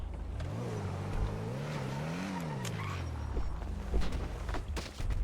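Car in the GTA roleplay game pulling away, its engine note rising and falling in pitch as it accelerates and shifts, with brief tire noise, loud and close throughout.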